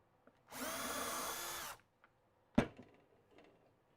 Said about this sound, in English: Drill this one.